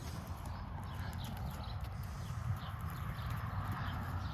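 Hooves of a ridden horse clip-clop in a steady walking rhythm over a continuous low rumble of background noise, fairly faint and distant throughout.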